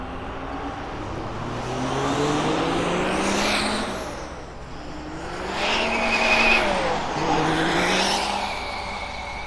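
A 1999 Peterbilt 379 truck at a truck fest roars past in two swelling engine passes with rising and falling pitch, loud and continuous, with no talking.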